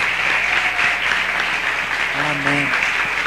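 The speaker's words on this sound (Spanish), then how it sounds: "Démosle un aplauso." Church congregation applauding at a Sunday service for child dedication, sustained loud clapping from a crowd with voices calling out and a brief sung or spoken phrase over it.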